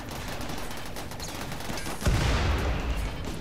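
Inferno cannon fire in the RimWorld video game, a sustained crackling volley of gunfire that surges into a heavier, booming burst partway through, loud and dense with no voices over it.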